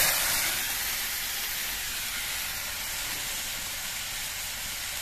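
Water splashes into very hot oil with turmeric in a pan while cooking Bengali aam katla fish, giving a steady, loud hissing sizzle that fades slightly and carries on for the whole stretch with no talking.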